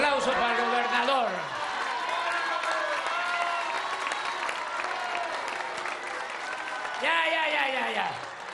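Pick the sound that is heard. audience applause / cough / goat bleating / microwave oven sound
audience applause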